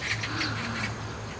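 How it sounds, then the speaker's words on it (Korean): A magpie calls with harsh, faint squawks somewhere off in the distance, partly buried under steady background noise. "까치가 되게 우네요."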